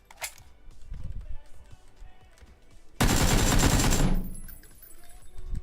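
Loud burst of automatic gunfire in PUBG, a battle royale shooter, with a dense second-long volley near the middle after quieter scattered game sounds and movement.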